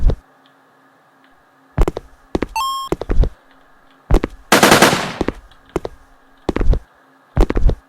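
Gunfire and bullet impacts in a Unity first-person shooter: several separate sharp bursts of shots and impacts, one longer loud rattling volley mid-way, plus a short electronic beep, loud and close over a quiet hum.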